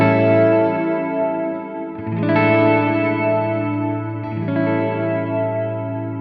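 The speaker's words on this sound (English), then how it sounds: "So if we bring this all the way down, we'll only hear the dry reverb." Encounter Ambient Delay+Reverb pedal playing a dry reverb with the pitch-shifted mix turned down: sustained, layered guitar chords washing on in swells, with new chord changes near two and four seconds over a constant lush tail, no voices.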